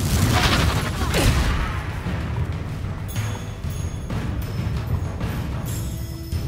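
Confringo and Reducto spells blast repeatedly in a Hogwarts Legacy battle, a dense barrage of loud booming explosions and crashes layered over continuous roaring game noise.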